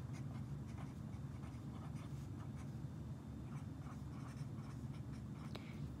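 A definition being written by hand, a quiet, steady scratching of pen or pencil on paper running throughout, close and faint, with no talk.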